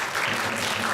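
A congregation applauds during a Sunday worship service at a Korean church, with a steady, dense wash of clapping that fills the whole short moment at a moderate level.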